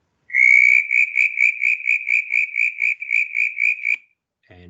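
A rapid series of high, whistle-like pulsed notes from a southern brown tree frog, about a dozen in quick rhythm, clear and close, then stopping abruptly.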